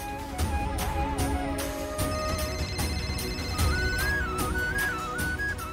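A phone rings for an incoming call, its ringtone a melodic electronic tune that repeats steadily and stays clear throughout, with no one speaking.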